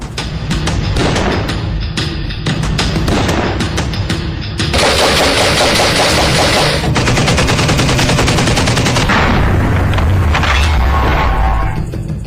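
Modern Israeli assault rifles fire loud, sustained automatic bursts, with rapid overlapping shots and a dense, continuous rattle from close range and no talk.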